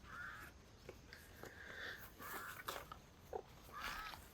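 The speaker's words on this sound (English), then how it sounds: "It's that one. It's a kingwa." Faint harsh calls of a kingwa bird repeat at intervals outdoors in nature, a few rasping cries rising and falling against a quiet, hissing background.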